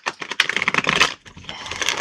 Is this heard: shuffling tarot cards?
yes